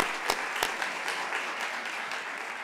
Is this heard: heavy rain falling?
no